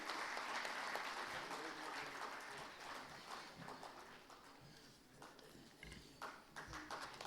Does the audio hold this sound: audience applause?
yes